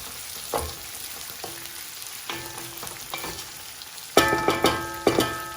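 Rice and carrots crackling as they toast in a pan for paella, a steady low sizzle broken by a few sharp stirring clatters and bright crackling bursts near the end, with no talk.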